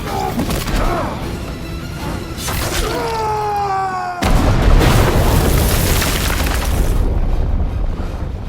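A loud, booming bomb explosion at a railway bridge pillar erupts midway through dense rumbling action noise, followed by sustained crashing debris and roar.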